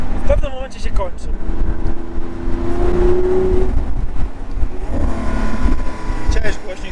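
A Lamborghini Aventador SVJ engine roars and revs, rising in pitch as it accelerates, loud and close, with some talking mixed in.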